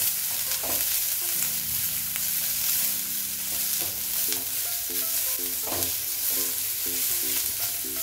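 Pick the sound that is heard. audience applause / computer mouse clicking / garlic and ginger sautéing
garlic and ginger sautéing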